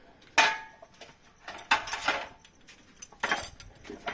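Dishes and spoons clatter in a rustic kitchen in Punta de Maisí, Cuba: several sharp metallic and ceramic clinks come in clustered bursts, close and moderately loud, with quiet pauses between handlings.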